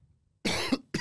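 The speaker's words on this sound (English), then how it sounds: "No, because of a cough." A person coughs twice in quick succession, a harsh burst followed by a brief pause and a second cough cut short, close and loud against near silence.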